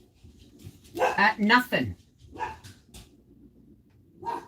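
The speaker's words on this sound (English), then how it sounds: "She keeps barking" Pet dog barking and yipping indoors during a live stream, a few sharp barks close by mixed with a person speaking over them.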